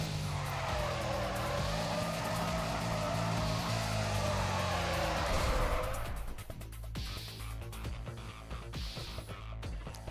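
Race cars in Need for Speed ProStreet, running a handling and sound mod, roar loudly with sustained engine drone and long tire squeal for about six seconds, then shift into choppier engine bursts and skids.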